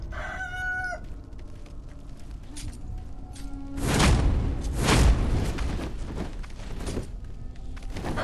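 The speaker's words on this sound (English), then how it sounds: "These roosters as enemies are still very funny to me." A rooster enemy in the video game Sekiro crows in a clear harmonic call in the opening second, then combat sounds follow, with two louder bursts around the middle over steady in-game background noise.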